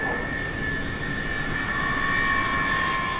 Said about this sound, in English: An Antonov 124 landing at Cape Canaveral's skid strip runway.